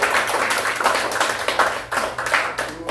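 A lecture audience claps for a guest speaker, the Korean futurist James Kim, with dense, steady applause of many hands filling the room for a few seconds at a fairly loud level.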